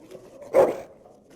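A dog in a video game gives one short, close bark that rises out of near-silence and fades quickly.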